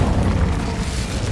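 Incendio fire spell cast in Hogwarts Legacy, a loud close whooshing burst of flame with a deep rumbling roar that holds steady through the short moment.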